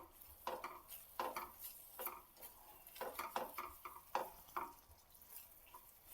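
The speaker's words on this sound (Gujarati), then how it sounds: "આપણી ગ્રેવીમાં. આપણે સતત આવી રીતે ચલાવવાનું છે." A spoon scrapes and clinks rhythmically through thick shahi paneer gravy in a pan, repeated stirring strokes at a steady pace, close by and fairly quiet, with a soft sizzle underneath.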